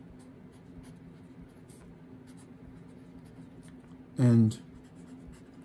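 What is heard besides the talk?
writing while explaining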